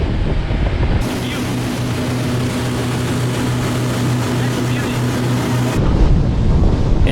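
A motorboat cruises at 42 miles an hour with eight people aboard, a full tank and gear, its steady engine drone and wind rush continuous and loud throughout, with no pause.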